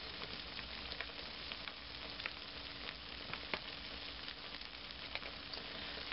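Curry with curry powder frying in a pan, a continuous close sizzle with small crackles and pops, steady and moderately loud, no voices.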